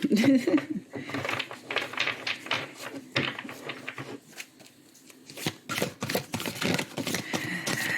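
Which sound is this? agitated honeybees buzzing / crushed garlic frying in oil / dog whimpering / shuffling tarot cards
shuffling tarot cards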